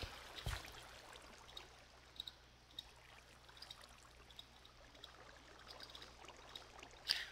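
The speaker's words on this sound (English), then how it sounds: "Some kind of underground waterfall." An underground waterfall in Minecraft gives a steady, faint trickling rush of water with a few soft clicks over it. It runs alone with no talk.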